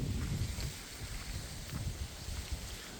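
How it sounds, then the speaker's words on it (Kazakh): Strong wind gusting outdoors near apricot trees, a low rumbling buffet on the microphone that swells and eases in uneven pulses, fairly faint overall. "Жел күшті бүгін. Жел қатты."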